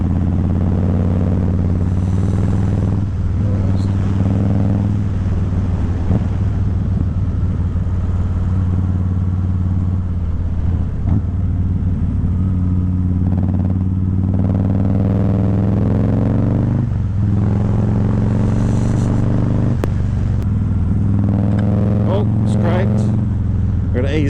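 A 2025 Harley-Davidson Fat Boy rumbles steadily through twisty corners, its low engine drone continuous and close with rises and dips in revs, while a rider talks over it throughout.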